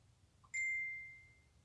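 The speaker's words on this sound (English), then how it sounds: "ignore the beeps, that's my notifications" A single phone notification chime sounds alone in a quiet room, with a soft low blip and then a clean bright tone that rings out and fades.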